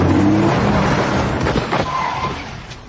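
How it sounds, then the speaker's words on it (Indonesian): A car speeding in and skidding, nearly striking people in a film scene: loud engine and tire noise throughout, with a brief squeal near the end. "datang sebuah mobil hampir saja akan menabrak mereka"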